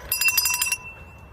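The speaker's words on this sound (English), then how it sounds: "Never forget Prominix's bell." Quick, bright metallic bell rung in a rapid string of strikes lasting under a second, loud and close, then fading into quiet.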